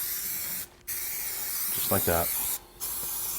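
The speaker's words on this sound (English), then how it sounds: "So I want to remove that again with some of the wax and grease remover, and just spray every single area that I sanded down" Wax and grease remover sprayed from an aerosol can onto sanded areas of a Yoder smoker during paint touch-up, a loud steady hiss in two long bursts with brief pauses, and a short spoken remark in the middle.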